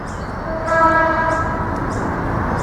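A train rumbles past loudly near the Sydney Harbour Bridge, with a faint tonal hum riding over the heavy, continuous roar.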